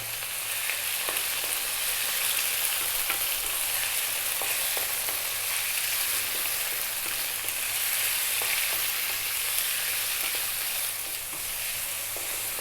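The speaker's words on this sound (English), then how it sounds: "And we're on quite a high heat, as you can hear." Beef frying over high heat in a pan while being stirred constantly, a loud, dense, continuous sizzle with frequent scraping ticks, close by and with no talking.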